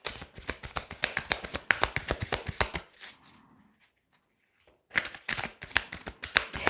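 Tarot cards are shuffled in a rapid run of crisp riffling flicks, then a short near-silent pause, then another burst of shuffling, close and fairly quiet.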